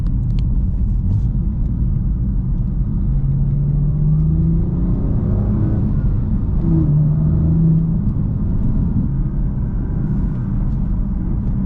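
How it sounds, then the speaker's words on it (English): A BMW M4 Competition with an AWE SwitchPath exhaust is revved with the exhaust valves closed, giving a steady, subdued low rumble that swells slightly mid-way, heard up close and without talking. "I could feel the vibration a lot more when I rev the engine."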